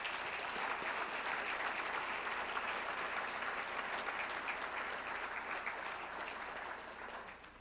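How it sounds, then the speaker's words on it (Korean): Conference attendees at a Korea–US alliance gathering give sustained applause for honored war heroes. The clapping is full and continuous from a large room and fades off over the last second or so. "우리 모두 영웅들을 위해서 큰 박수를 부탁드리겠습니다"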